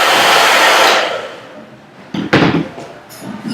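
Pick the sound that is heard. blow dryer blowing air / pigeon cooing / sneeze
blow dryer blowing air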